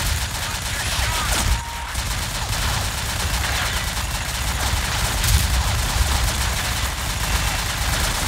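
Rapid bursts of gunfire from the online shooter game Combat Arms, dense and continuous with overlapping shots, a brief louder blast near the start, and players talking faintly underneath.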